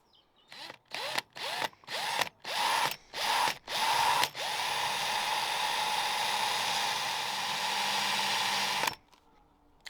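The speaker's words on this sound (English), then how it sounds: "So that's all I'm drilling at the moment." A power drill starts in several short bursts, then runs continuously for a few seconds while boring through a Land Rover Defender 90 Td5 door before stopping.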